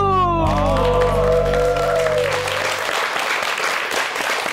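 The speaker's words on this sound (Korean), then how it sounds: "박수." A television studio audience bursts into loud, sustained applause right after a short sung phrase fades out, with the clapping filling the rest of the moment.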